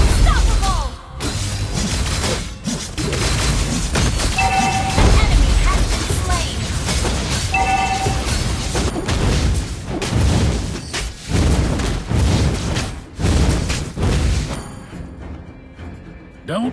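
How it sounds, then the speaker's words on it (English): A turret being destroyed in a video game battle: dense continuous booms, blasts and crashing impacts over game music and effects, loud and unbroken throughout. "Our turret has been destroyed."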